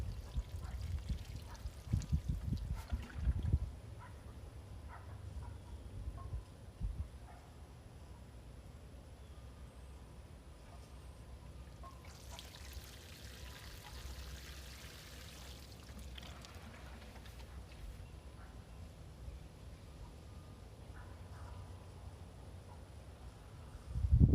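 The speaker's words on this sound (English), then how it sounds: "I'm going to go ahead and water this in some more in an effort to get rid of any air pockets" Water is poured onto the soil around a newly planted grape vine, starting as a strong splashing pour for several seconds and then settling into a faint trickle and drip as it drains.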